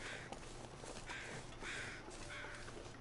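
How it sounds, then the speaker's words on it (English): Crows in the survival video game The Long Dark give four faint, evenly spaced caws over a hissing wind-like background, heard at a distance. "You can hear the crows"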